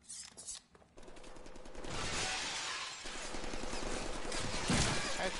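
Rapid bursts of gunfire in the Deadpool video game start after a brief quiet moment, then keep going as dense, loud, continuous shooting with crashing impacts for several seconds.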